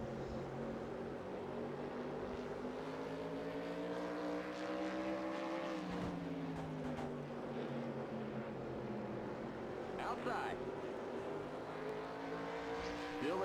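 Whelen Modified race car engines roar in the NASCAR Racing 2003 video game, a continuous loud drone of several engines with pitch shifting as they accelerate and lift, alongside quiet talk.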